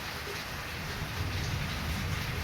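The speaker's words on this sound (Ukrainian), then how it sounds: "Дощ іде." Summer rain falls in a steady, even hiss of drops on surfaces, continuous and moderately close, with no voices.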